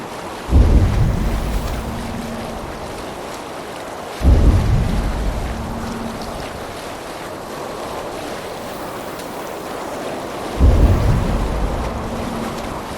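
A Viking sailing ship rolls over ocean waves in the Discovery Tour Viking Age game, with three heavy surging wave crashes spaced several seconds apart against a steady wash of wind and water.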